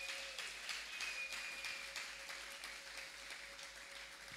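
A church congregation applauds at a sermon, a faint, continuous patter of many hands clapping that carries on steadily and slowly thins out, heard from a distance.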